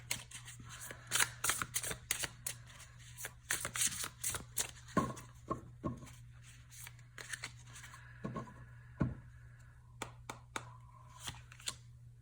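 Tarot and oracle cards are shuffled in quick, crisp riffling bursts, close and fairly quiet, with short pauses between rounds over a steady low hum.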